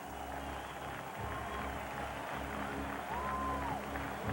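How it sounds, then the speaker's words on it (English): Boxing arena crowd murmuring and building with scattered applause and cheers as fighter Axel Schulz prepares to walk to the ring, a distant, steady roar of fans throughout. "you can hear the crowd building already"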